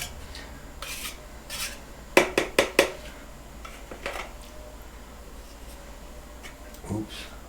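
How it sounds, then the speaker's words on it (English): Drywall mud being scraped off a metal taping knife, with rapid short rasping strokes in a quick burst, then a few softer scrapes, close and moderately loud in a quiet room. "Any of this excess mud I want off of the knife now."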